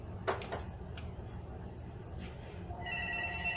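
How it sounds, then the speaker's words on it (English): A telephone rings steadily in the background, a high electronic tone starting partway through, following a few light knocks and clatters. "Phone's ringing"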